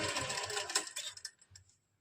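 A sewing machine runs in a quick rattling burst as it stitches the shoulder seam joining a kurti to its lining, then slows through a few separate stitches and stops.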